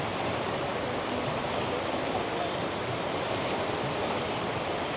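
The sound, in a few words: rushing flood water during monsoon rain in Rishikesh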